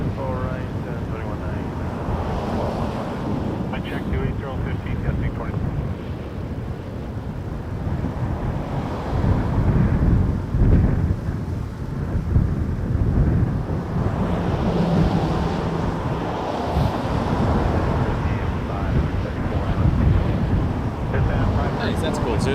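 Wind buffeting a microphone at a big international airport, a continuous rough rumble that surges and eases, with distant aircraft noise and a person talking over it.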